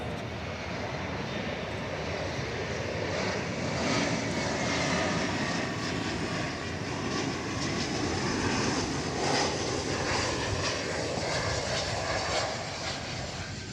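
A jet airliner at DFW Airport, the flight from Chihuahua, gives off a steady broad engine roar that stays loud and even throughout, heard from a distance and without voices.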